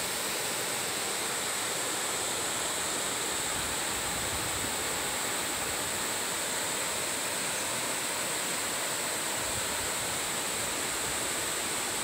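Malanca waterfall in Nagari Harau, Luak 50, pours down in a steady roar of falling water. The rushing noise is loud and constant from start to end, with no voices.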